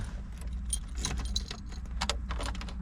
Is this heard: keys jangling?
yes